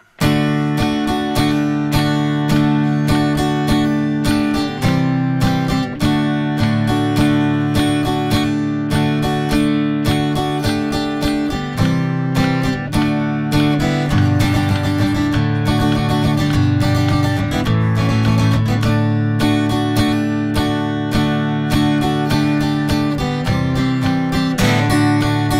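Guitar plays the first two verses of a song along with the original recording, strummed chords and steady drums running continuously and loud throughout, with no talking.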